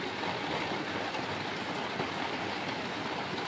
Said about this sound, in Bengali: ভীষণ বৃষ্টি হচ্ছে গাইজ, শুনতে পাচ্ছ শব্দটা?